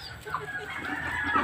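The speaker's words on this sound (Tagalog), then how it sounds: "Pinakain natin yung manok." Several short clucks from chickens, fairly close, with a busy farmyard background and no talking.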